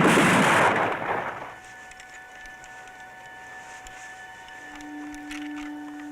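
A rifle volley fired on command in a 1977 film scene at a ski resort cracks out as one loud burst, then fades into a low ringing hum and quiet background.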